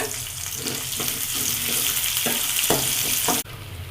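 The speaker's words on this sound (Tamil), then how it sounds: "நல்லா பொறிஞ்சிருச்சு பூண்டு கொஞ்சம் சேர்த்துக்கோங்க வெங்காயம் கொஞ்சம் சேர்த்துக்கலாம் சின்ன வெங்காயத்து கட் பண்ணி சேர்த்துக்கோங்க" Garlic and small shallots frying in hot oil for a Tamil spinach-style greens dish, a steady close sizzle with stirring scrapes throughout, ending abruptly in a softer hiss.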